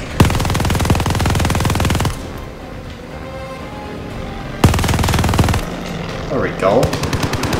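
Turret machine gun in Call of Duty Vanguard firing in two long, loud sustained bursts separated by a quieter gap, with a brief spoken remark during the pause.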